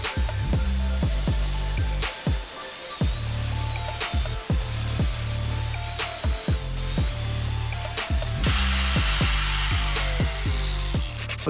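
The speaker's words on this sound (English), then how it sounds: "now I'm going to use the cutting disc just to get away the excess bits." A cutting disc trims excess material from handmade abalone-shell fishing lures, giving a loud, steady grinding whine broken by repeated short rhythmic strokes as the disc works the shell, with no talking.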